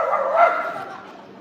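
A person's voice imitates a dog's contented sound, a single drawn-out whining vocal lasting over a second, close and fairly loud, rising slightly then fading, with no other sounds around it.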